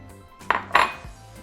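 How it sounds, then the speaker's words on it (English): A spoon or whisk knocking against a large bowl while mixing maseca masa flour, with two quick clinks followed by a soft thud, close and alone. "So in a large bowl we're going to mix our maseca"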